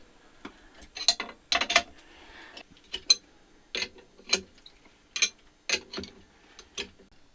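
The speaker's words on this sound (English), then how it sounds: "Now we can take this compressor off of here" A spring compressor coming off a car suspension strut during a CR-V lift kit install, heard as scattered close metallic clicks, ratcheting ticks and clanks spaced irregularly over several seconds.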